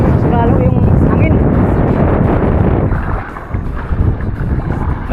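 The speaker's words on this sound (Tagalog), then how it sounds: "Malakas ng hangin." Strong wind buffets a fishing boat out at sea during tamban fishing, a loud continuous roar of gusts and water noise with a voice talking over it.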